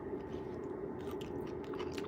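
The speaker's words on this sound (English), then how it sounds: "they're still crunchy. I like crunch in my vegetables." Close, crisp chewing of crunchy sautéed onion and garlic rapini, with steady bites and crunches and no talking over them.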